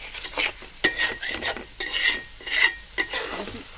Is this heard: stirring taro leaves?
yes